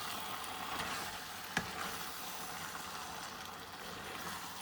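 Chicken and spinach cook together in a pan, giving a soft continuous sizzle with faint stirring scrapes and one brief sharp clink partway through, fairly quiet and even throughout.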